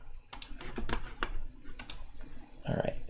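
Typing on a Kinesis Advantage keyboard retrofitted with Cherry ML switches gives a quick, close cluster of crisp key clicks, then a pause and a few more presses near the end.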